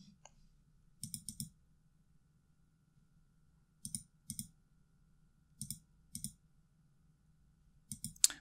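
Computer mouse clicking: quiet, close, sharp clicks in small groups of two or three, separated by pauses over a faint steady hum.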